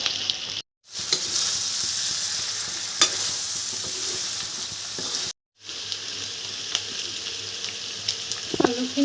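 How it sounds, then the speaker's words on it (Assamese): Potatoes fry in oil with ginger, garlic, cumin and coriander, a steady close sizzle broken by two brief silences and occasional sharp clinks of stirring. "আলুখিনি দিয়াৰ পিছত অলপ দেৰি ভাজিব লাগিব।"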